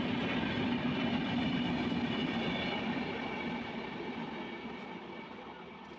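A passenger train rolls through Edappally railway station in Kerala with a loud, steady rumble and clatter of wheels on rails that slowly fades over several seconds.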